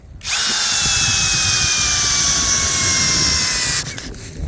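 A 12-volt cordless drill drives a screw into live hornbeam wood, a loud close whine held steady for about three and a half seconds, its pitch sagging slightly under load before it stops abruptly.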